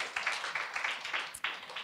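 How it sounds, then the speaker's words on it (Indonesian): A church congregation claps along, brisk, fairly even applause filling the room at moderate distance, with no clear speech. "Tepuk tangan dulu dong buat Tuhan Yesus."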